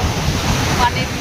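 Gentle sea breeze and waves on Chennai beach in the evening: a brief, loud wash of surf mixed with wind rumble on the microphone, steady throughout.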